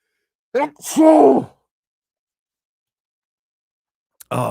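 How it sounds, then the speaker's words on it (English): A single sharp sneeze with a strained vocal buildup breaks an otherwise silent stretch, then a voice briefly starts up at the end. "I'm going to sneeze."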